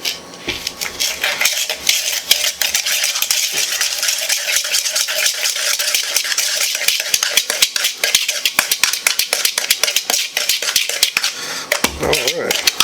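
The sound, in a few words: stirring granulated sugar mixture in a bowl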